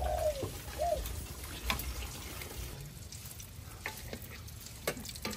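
Fish cakes frying in a pan for Vietnamese bún cá, a steady close sizzle and crackle of hot oil with occasional stirring scrapes and faint background sounds throughout.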